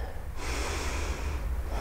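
Breathing during a yoga flow, held in a reverse warrior lunge: a soft, audible breath rises mid-clip and eases off near the end over quiet background hiss, with no speech.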